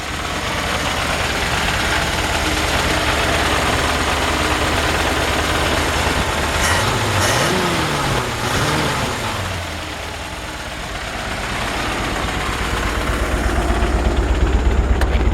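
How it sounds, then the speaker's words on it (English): A 1951 Ford F1 pickup engine idles steadily with a low, continuous rumble and a vibration from underneath the truck, dipping briefly midway before settling back to a constant idle; no one speaks. "It sounds like a vibration's coming out from underneath the truck a little bit."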